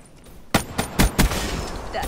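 Shots ring out in a first-person shooter, a cluster of four sharp, loud reports about a quarter second apart followed by a lingering rumble of in-game ambience.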